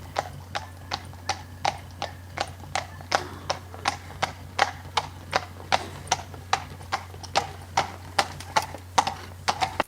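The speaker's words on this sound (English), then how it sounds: "He's a lovely horse to ride." Steady clip-clop of horse hooves on a hard surface, an even walking rhythm of crisp, close hoofbeats with no talking.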